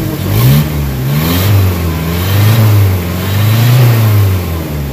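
A Nissan Vanette engine with low power and throttle delay revs up and down repeatedly, loud and close, the pitch rising and falling in smooth waves.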